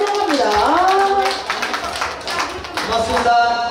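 An audience applauds at a charity concert in Jongno-gu, clapping steadily while a voice and tonal sounds carry over the top.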